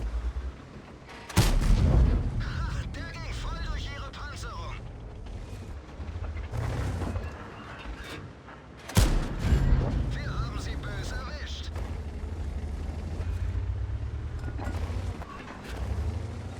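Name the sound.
tank gun firing in World of Tanks video game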